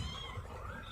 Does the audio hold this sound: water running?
no